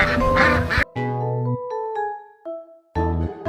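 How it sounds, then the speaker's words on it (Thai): Loud nasal quacks from a duck close by, a few harsh calls separated by short tonal honks and pauses. "เป็ด น้องเป็ด"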